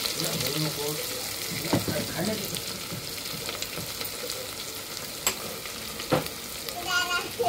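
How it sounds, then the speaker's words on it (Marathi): Cauliflower florets fry in oil with onion in a pan for biryani, a steady close sizzle broken by spoon clatter and stirring knocks, with faint voices in the background. "परत त्याला फ्राय करून घेऊया तेलामध्ये व्यवस्थित"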